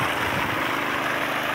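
A boat motor pumping water is throttled up, giving a steady, loud, close roar with no voices over it.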